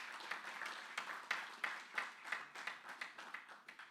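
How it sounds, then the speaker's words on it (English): Audience applause at a launch ceremony, sparse and fairly quiet, with scattered individual claps standing out over a thin patter of hands, fading slightly toward the end. "Give them a round of applause, please."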